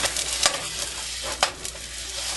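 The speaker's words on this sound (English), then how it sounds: "Nothing more exciting than watching sausage fry." Sausage frying in a pan, a close, continuous sizzle and crackle with a couple of sharp scraping clicks from stirring.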